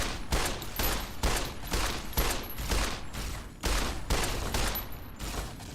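Pistol shots in the game Fallout: New Vegas ring out as a string of about a dozen loud, sharp cracks at an uneven, fairly quick pace, each with a short ringing tail.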